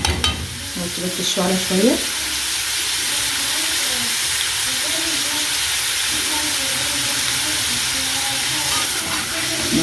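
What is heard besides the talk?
frozen minced meat stirred and sizzling in pan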